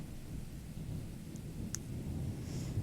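A thunderstorm builds in the Code Lyoko IFSCL game as a low, steady rumble of distant thunder under soft rain, with a couple of faint high chirps above it.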